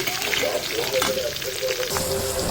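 Onions added to urad dal already frying in a pan, giving a loud, close sizzle with bursts of crackle and hiss that shift as the pieces settle into the hot oil.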